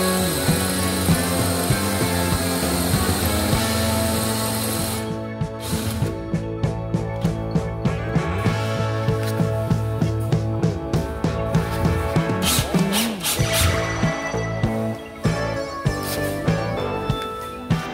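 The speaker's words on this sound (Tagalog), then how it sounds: "Dito naman sa kabila ay bubutasan ko na ng panibago at papalitan ko na ng medyo malaking screw" A power drill bores a fresh hole in a table, then drives a larger screw into it in repeated short bursts of whirring and ratcheting after an opening stretch of steady motor hum.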